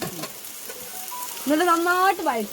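Sliced onion sizzles steadily in hot oil for a fish curry, a close, continuous frying hiss. A voice speaks briefly over it near the end.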